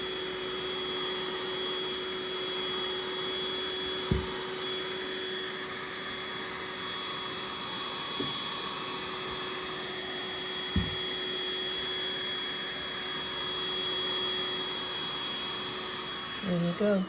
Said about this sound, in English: get the old hoover out again